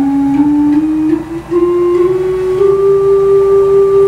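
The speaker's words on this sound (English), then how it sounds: "We have a flute here." A pipe organ flute stop plays soft, pure, sustained notes, one held tone gliding into the next with a brief dip between them.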